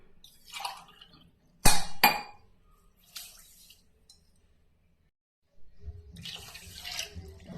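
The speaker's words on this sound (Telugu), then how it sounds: "ఇదే గ్లాస్ తోటి one and half glass water కూడా యాడ్ చేస్తున్నాం" Water is poured from a glass into a kitchen pan for sugar syrup for gulab jamun, in several short splashing pours separated by pauses, with a sharp clink of glass in the middle.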